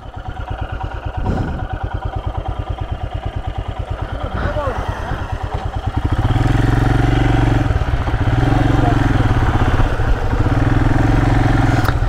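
A Royal Enfield Himalayan motorcycle rides a forest trail in Joypur Forest, its single-cylinder engine thumping steadily up close. The engine grows louder and heavier partway through, with a voice audible at the start.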